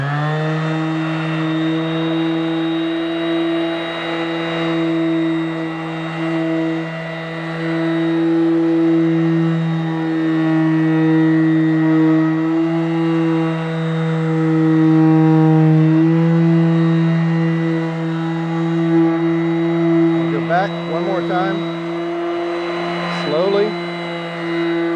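A polisher buffs a golf cart body at full speed, giving a loud, continuous motor whine that holds steady for the whole stretch, with slight pitch shifts as pressure changes and a few brief knocks near the end.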